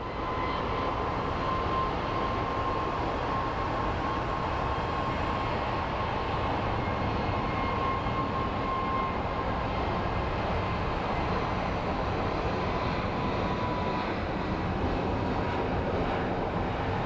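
A Miami-bound airliner begins to taxi at Phoenix Sky Harbor, its jet engines giving off a steady, distant whine over a broad roar that holds level throughout, with no voices.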